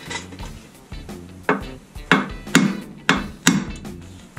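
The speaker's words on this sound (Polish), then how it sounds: "Parę młotków trzeba tu dać." A hammer strikes a seized shock absorber bolt on a Seat Cordoba 6L during a strut mount and bearing job: about eight sharp, close metallic blows at a steady, slightly quickening rhythm, with no talk.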